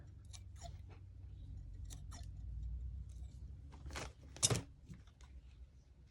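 Scissors cutting the edges off a photo, giving a series of short, quiet, close snips and crisp paper crunches with pauses between them.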